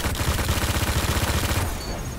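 Rapid automatic gunfire from a player-versus-player match in the Destiny beta rattles loud and close in a dense burst, then cuts off into a quieter tail.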